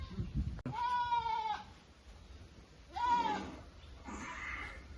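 A goat, a black billy goat of good breed, bleats clearly at moderate distance in a rural homestead. There are two drawn-out wavering bleats and a fainter third call.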